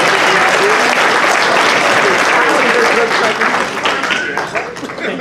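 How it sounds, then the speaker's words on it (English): A costume contest audience bursts into sustained applause, steady and dense throughout before thinning slightly at the very end, with some voices mixed in. "A round of applause."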